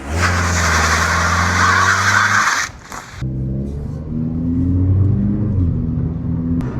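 Cheap used car with 178,000 kilometres on it, bought for about $400, driving on a test run: a loud, steady engine drone with gear-change dips and rising revs, close and continuous with no talk.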